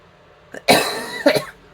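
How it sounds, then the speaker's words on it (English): Two coughs: a short faint one, then a loud, harsh burst trailing off, followed by a second sharp cough, close to the microphone. "I have to cough again."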